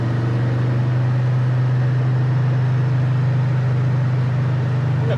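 A 1971 Chevy Chevelle cruises down the road, its engine holding a steady, loud, low hum with constant road noise and no talking.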